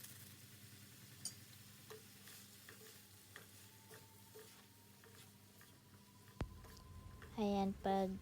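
Indomie noodles stir-fried with their seasoning in a pan, with a quiet sizzle, light scraping stirs and a few clinks, then a voice speaking briefly at the end.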